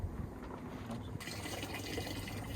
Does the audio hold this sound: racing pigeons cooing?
no